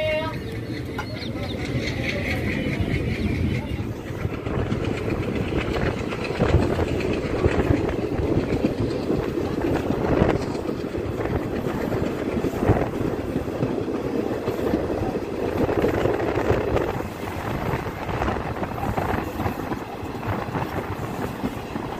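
Suratgarh–Sri Ganganagar passenger train pausing at Sardargarh station, its steady rumbling broadband noise running throughout at close range, with clattering and faint ambient sounds layered over it.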